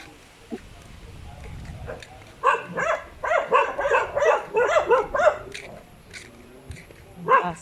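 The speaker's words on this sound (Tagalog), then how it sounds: "Aso mga kasambahay." Several dogs barking in a rhythmic run of sharp yelps at moderate distance, heard while out walking near a seaside cliff with houses, with some faint talk and a final bark after a pause.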